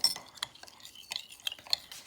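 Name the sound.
stirring yeast, brown sugar and lukewarm water in a bowl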